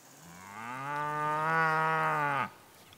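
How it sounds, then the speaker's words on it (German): A single cow lets out one long, loud moo on a farm, the low bellow holding steady for about two seconds before cutting off, with no talking. "Sie hat Joa die Gedanken seiner Kühe Dagi und Emma schon öfter mitgeteilt"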